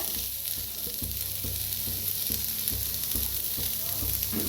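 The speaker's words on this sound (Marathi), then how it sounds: "गॅसवर ठेवलाय पॅन तर कांदा भाजून घेऊया" Onion dry-roasts in a pan without oil, making a soft, continuous sizzle. A low, regular rattle of the pan or stirring pulses under it at a steady rhythm, and no one speaks.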